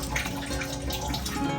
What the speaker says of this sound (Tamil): கொஞ்சோண்டு தண்ணியை விட்டு அதை கழுவி இதுக்குள்ளே ஊற்றி விட்டு